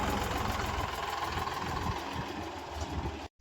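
A tractor engine runs steadily nearby, a continuous rumbling drone with a faint knock, then it cuts off abruptly at the very end.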